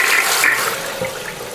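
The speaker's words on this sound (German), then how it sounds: "als erstes checken wir einfach mal die Spülung und schauen mal, was passiert" A clogged household toilet is flushed, giving a loud, steady rush of water that fills the moment alone, with no talking.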